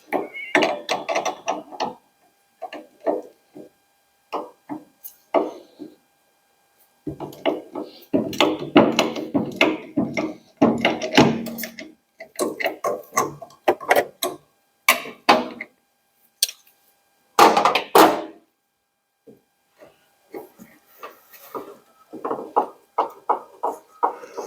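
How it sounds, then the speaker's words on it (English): A 9/16 socket and spanner work on a Ford Model T, producing bursts of ratcheting clicks and metallic tool contacts in irregular clusters with short pauses, close and fairly loud. "So 9/16 socket and the spanner."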